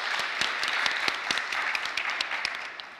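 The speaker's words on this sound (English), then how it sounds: "Let's give Serhii a round of applause as well." Audience applause after a talk introduction on world-changing inventions, with dense continuous clapping and sharp individual claps throughout, steady and fairly loud with no voices.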